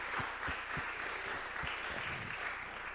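An audience at a talk on artificial intelligence and the environment applauds a speaker. A continuous, even wash of clapping from a roomful of people stays steady throughout, with a few low thuds beneath it.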